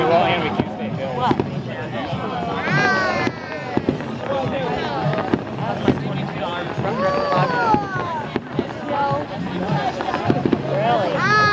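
WEBN fireworks over Newport, Kentucky, burst in frequent loud booms and crackles amid constant chatter from a nearby crowd, with someone talking close by throughout.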